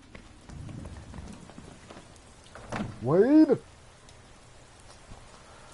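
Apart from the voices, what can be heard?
rain falling in the Madden 18 video game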